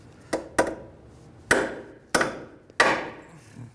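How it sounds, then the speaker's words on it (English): Five hard metallic hammer blows on a ball joint castle nut of a 2003-2011 Honda Element, struck at uneven intervals, close and ringing briefly, with quiet pauses between the strikes. "take a hammer and hit the ball joint from the bottom on the castle nut"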